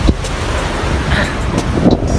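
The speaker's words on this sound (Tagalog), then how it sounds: "Saka matindi yung alon ngayon mga buddy kasi nga yung amihan ay dito" Strong sea waves churn and roar continuously off southern Negros Occidental under the northeast monsoon wind, mixed with heavy wind buffeting the microphone, with no voices.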